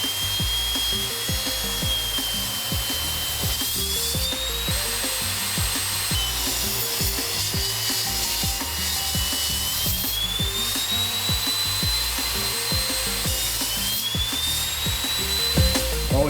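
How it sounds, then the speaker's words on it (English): Angled wooden battens being cut from salvaged wood with a power saw, a continuous whining, rasping cut with a rising and falling pitch, loud and close with no talk. "we have cut a lot of these little battens that have an angle"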